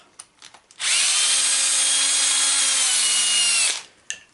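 A power drill runs in one sustained burst of about three seconds as it backs screws out of the upper casing of a Serpent MT e-bike's motor housing, loud and close with small clicks before and after.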